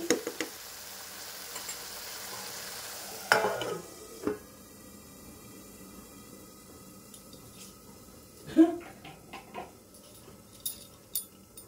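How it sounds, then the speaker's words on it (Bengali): Eggplant curry (begun bahar) in a frying pan gets stirred with a few scattered scrapes and knocks of a utensil over a faint low sizzle, the rest fairly quiet. "এবার একটুখানি নাড়িয়ে চাড়িয়ে ঢাকা চাপা দিয়ে রাখতে হবে লো টু মিডিয়াম"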